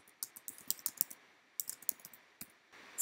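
Typing on a computer keyboard during software work: irregular clusters of crisp key clicks, some quick runs and a few single taps, close and fairly quiet, with no voices.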